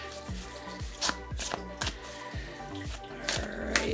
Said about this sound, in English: So let's give this a good shuffle here.